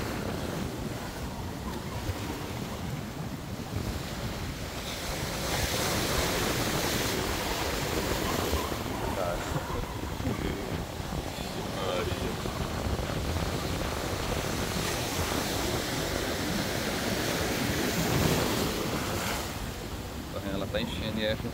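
Strong ocean waves surge over the reef at Piedade beach in Jaboatão, Recife, a loud, steady roar of surf churning continuously, with wind buffeting the microphone throughout.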